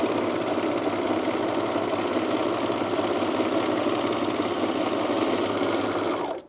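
A sewing machine runs steadily at speed while stitching the side seam of a Deer and Doe Sirocco jumpsuit, a close, loud, rapid mechanical chatter that continues unbroken for several seconds before stopping abruptly.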